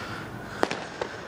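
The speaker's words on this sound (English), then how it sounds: "We're gonna catch ourselves some fireworks here." Fireworks go off on the Fourth of July at night, with two or three distant pops and cracks about half a second apart over a steady outdoor hum.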